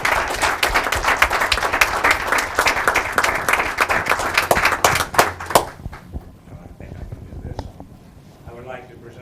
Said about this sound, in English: So a round of applause for all four to start with.